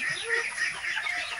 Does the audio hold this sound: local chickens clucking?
yes